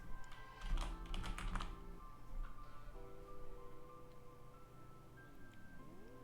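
A quick flurry of computer keyboard key clicks typed into a search bar, close and crisp, followed by a few isolated taps over faint background tones.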